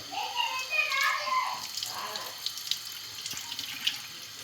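Tap water runs steadily while rinsing oven gel off an oven interior, a continuous splashing hiss that shifts as the stream hits different surfaces, with a few small clinks.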